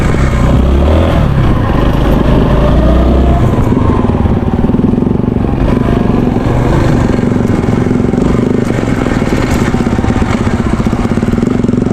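A motorcycle engine labors loud and close as it climbs a hill on a rural road, its steady droning roar running unbroken throughout.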